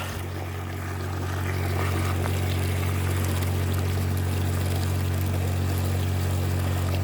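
Muddy ditch water pumped out by a water pump driven by a Westfalia brush-cutter engine, pouring in a steady continuous stream under a constant engine drone, held loud throughout.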